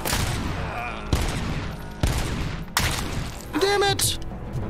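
Heavy gunfire and grenade blasts in the RoboCop: Rogue City video game, with repeated loud bursts and booming impacts in quick succession, plus a ringing tone near the end.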